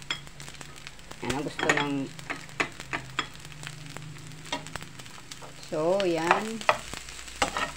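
Fried rice with egg and tomato stir-fried in a pan, a steady sizzle and frying hiss with scraping stirs throughout, while a voice talks intermittently over the cooking.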